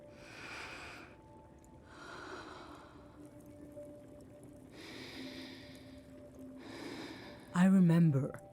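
Deep breaths in the video game SEASON: A Letter To The Future, a few slow airy inhales and exhales in a steady rhythm, close and soft, ending in a short burst of voice.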